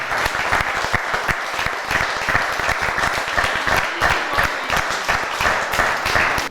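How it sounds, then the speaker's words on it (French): A room full of people applauding a newly installed club president at a formal chain-of-office handover ceremony, dense steady clapping that carries on for several seconds without letting up. "On l'applaudit, messieurs et dames."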